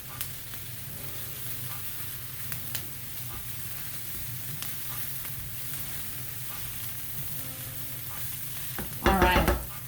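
Garlic sizzles steadily in a skillet while a spatula scrapes and stirs through it in scattered taps, with a louder clattering burst of stirring near the end.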